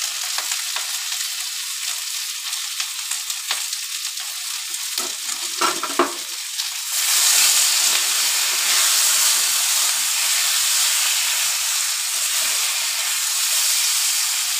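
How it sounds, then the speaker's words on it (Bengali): Vegetables frying in a pan with salt and turmeric for a fish-head vegetable dal, stirred at first, then a loud, steady hiss and sizzle that carries on alone without talk. "নুন হলুদ দিয়ে একটু ভাজবো"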